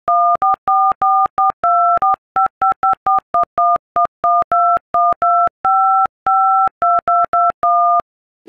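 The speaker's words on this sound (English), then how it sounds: "This video will have my top 5 iPhone dial songs." Touch-tone keypad beeps from an iPhone dialer, sequenced into a rhythmic melody: dozens of short, clean two-tone blips with brief gaps, loud and close, with no voices.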